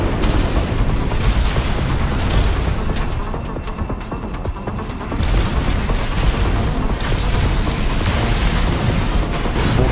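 Explosions from mech combat in the video game Armored Core VI: Fires of Rubicon form a dense, loud, continuous rumble of booms and blasts with barely a dip throughout.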